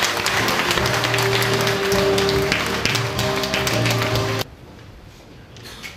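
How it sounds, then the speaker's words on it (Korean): Applause from a seated crowd at a Korean photo-essay book launch, welcoming Dr. Kim Hyun-chul to the stage: dense steady clapping with a faint tonal hum underneath, cutting off abruptly and leaving a quiet room. "박수로 맞이해주세요"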